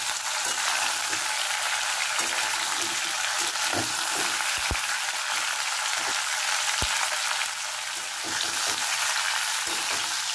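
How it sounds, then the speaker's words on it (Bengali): Potatoes and pointed gourd (kakrol) cut into chunks fry in oil in a pan, giving a steady, close hiss of sizzling with occasional clicks and knocks of stirring. "কাঁকরোলগুলোর সঙ্গে আলুগুলো একটু ভেজে নেবো।"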